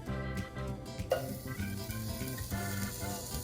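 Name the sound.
sausage sizzling in a pan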